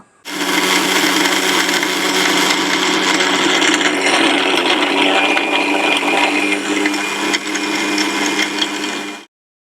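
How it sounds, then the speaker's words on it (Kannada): A blender runs loud and close for about nine seconds, blending a banana smoothie with a steady whirring motor grind that cuts off abruptly at the end. "ಒಂದು ಸ್ಮೂದಿ ರೀತಿ ಒಂದು ಜ್ಯೂಸ್ನ ರೀತಿ ಮಿಕ್ಸಿ ಮಾಡ್ಕೊಳ್ಳೋಣ"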